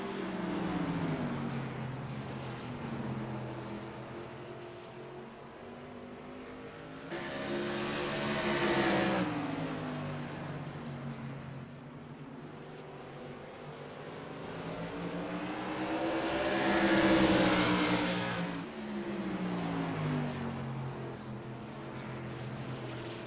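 Modified race cars roar past at Thompson Speedway, engines swelling loudly as each pack passes close and then fading, with sustained revving and tonal engine whine throughout and no talking.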